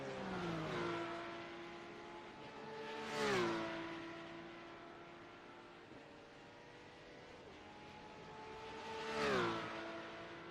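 Porsche Mobil 1 Supercup race cars on warm-up at Circuit Barcelona Catalunya in iRacing, engines whining as two cars sweep past in turn, rising and falling pitch over a steady distant engine drone.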